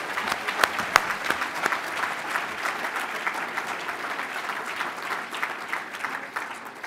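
Audience applause for the awardees at a community service awards evening, a steady dense clapping from a room of people, with a few sharper claps early on before it settles into an even, sustained wash that tapers slightly at the end.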